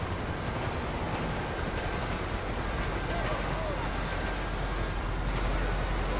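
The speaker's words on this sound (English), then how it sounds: "Train's here." A train rumbles past in the GTA V video game, a continuous loud rolling roar with a speaker talking over it throughout.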